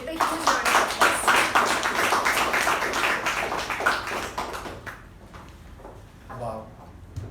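Members at a Toastmasters club meeting clap to welcome their club president, a dense round of applause from a modest indoor group that fades after about five seconds, leaving faint room noise and a brief voice.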